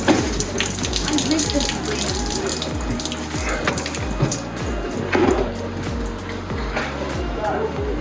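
Boiling water pours and gushes steadily onto something in an Italian boatyard, a continuous splashing flow heard under people talking.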